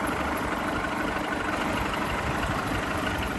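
A Volkswagen Golf engine idling with a hose disconnected, a steady close mechanical hum with a faint, slightly uneven pulse throughout and no talking.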